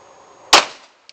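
A single sharp handgun shot cracks out close and loud at a shooting practice, followed by a short decaying echo and a faint small click after it.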